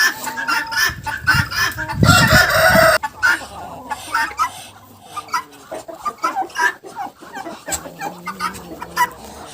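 Turkeys in a poultry yard, a tom courting a black hen, with loud gobbling and clucking bursts, a dense peak of calls early on, then scattered calls and fowl noises continuing throughout.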